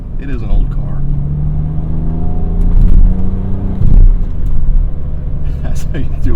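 BMW M Coupe with the S52 straight-six engine pulling hard, a loud close engine note rising in pitch through the revs with a brief dip like a shift, while a voice talks over it.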